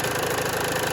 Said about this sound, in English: you don't want it idling too high because then the bike might overheat